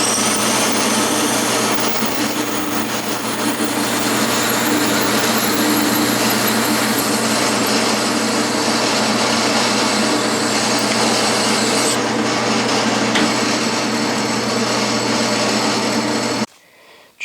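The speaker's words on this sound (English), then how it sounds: "here's my 500 thousandths, that is 1/2 inch chucking reamer" A metal lathe turns steadily while a half-inch chucking reamer cuts through the work, a continuous whirring machine drone with scraping cutting noise that stops abruptly at the end.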